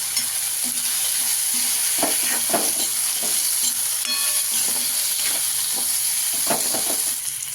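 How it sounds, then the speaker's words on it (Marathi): Butter sizzles loudly and steadily in a pan while a spoon stirs and scrapes in irregular strokes, with occasional metallic clinks, for a simple potato bhaji. "आपण बटर टाकून घेतलेलं आहे थोडंसं हलवून घेऊ आता ह्याला"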